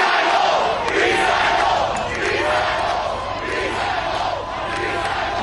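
Dense crowd of fans roaring and chanting in rhythmic bursts at an outdoor Red Sox rolling rally celebration, loud and close, a sustained wall of voices.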